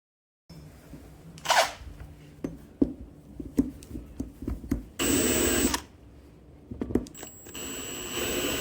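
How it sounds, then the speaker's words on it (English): A power drill whirs in two sustained bursts, drilling down a brake caliper for a Hyundai i30N, with clattering and handling noises in between. "We're going to drill this caliper down about 15 mil or so."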